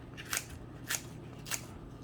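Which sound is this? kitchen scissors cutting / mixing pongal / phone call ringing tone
kitchen scissors cutting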